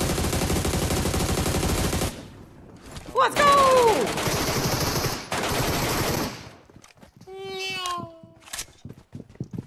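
Rapid automatic gunfire rattles in a competitive battle royale shooter match, loud bursts in short volleys separated by pauses, with excited players talking and shouting over the shots.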